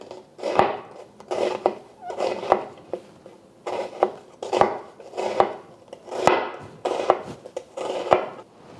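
A knife cutting on a board, rhythmic knocks and slicing strokes repeating about once a second, close and clear with no talking.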